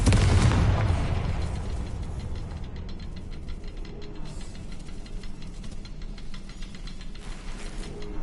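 A Confringo fire spell blasts in a wizard video game: a loud, deep boom at the start that decays into a long crackling, rumbling tail lasting several seconds, with no talk.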